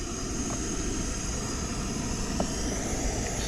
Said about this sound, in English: So we've got the jet boil going.